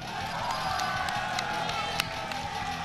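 Crowd cheering and whooping at a Guilty Gear top 8 fighting game tournament, a steady dense roar of many voices with scattered claps, loud and continuous throughout.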